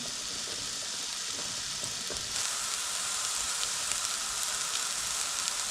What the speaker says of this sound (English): Now we just want to fry this onion off, just it's nice and translucent